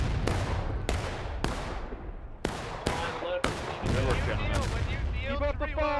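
Gunfire during a river crossing exercise: roughly ten separate loud shots, irregularly spaced and echoing, with voices calling out between them.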